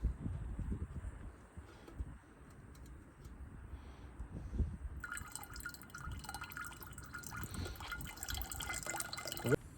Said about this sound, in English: I'm gonna go ahead and decant this water off